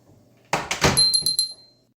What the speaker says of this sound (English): she slammed the window shut and drew the curtains